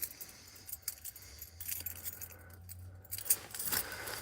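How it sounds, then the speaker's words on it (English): A bunch of ambulance keys jangles and clinks in irregular bursts as someone fumbles through them at night, close and fairly loud, with a low engine-like rumble underneath partway through. "let Jim fumble for the keys for 20 minutes."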